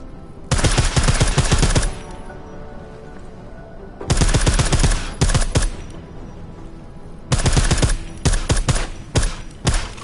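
Silenced gunfire from the Deus Ex video game comes in three clusters of rapid, clipped shots with short pauses between them, sounding dense and close.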